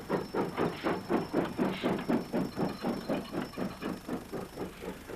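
Rhythmic chuffing of a working steam locomotive hauling coal to a power station's furnaces, steady repeated exhaust beats at a brisk even pace, fairly close and loud with no talk.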